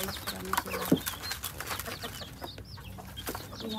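Backyard chickens, including small chicks, mixed with other birds such as doves: a close, dense chorus of chirps, peeps and clucks with low cooing. A voice murmurs briefly and a sharp knock or thump sounds early.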